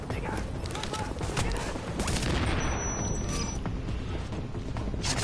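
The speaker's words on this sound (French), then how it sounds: "Oh, les impacts de la grenade" Grenade blasts and gunfire from the Tom Clancy's The Division video game make a dense, continuous barrage of shots and booms, loud throughout the short stretch, with voices faintly mixed in.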